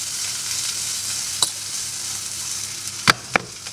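A burger patty sizzles and fries in a very hot pan, a steady close crackling hiss with a few sharp clicks and taps of a spatula against the pan.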